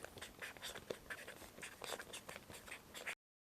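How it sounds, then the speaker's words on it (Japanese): A pen scratches across a label as the date and ingredients for a batch of homemade umeboshi pickled plums are written, quiet close strokes in short bursts. "つけた日付や使用した材料などを記入しています。"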